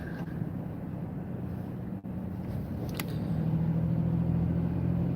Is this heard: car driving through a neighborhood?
yes